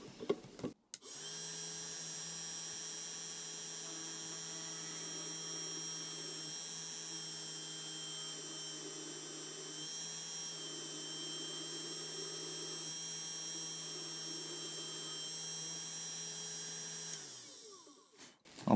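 Small benchtop drill press boring a 0.5 mm hole through thick metal: a steady whining motor hum with a high tonal whine, constant from start to finish, starting and stopping with faint clicks.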